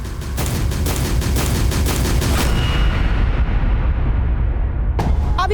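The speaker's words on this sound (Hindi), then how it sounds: "अभी अभी स्कूल के अंदर से गोली चलने की आवाज आई है।" Gunfire erupts inside a school during a hostage scene in a crime drama: a loud, rapid volley of shots rattles continuously for several seconds, then another short burst follows.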